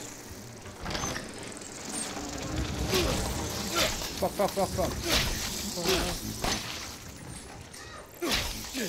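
Insect buzzing from bees in the horror video game Resident Evil 7 drones quietly beneath a player's stressed swearing and game noises.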